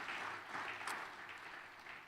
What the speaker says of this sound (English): A huge round of applause to Wayne and his entire staff for hosting us this weekend.